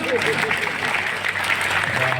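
An audience at a kavi sammelan claps after a bhajan ends, a brief dense burst of applause with a voice talking over it.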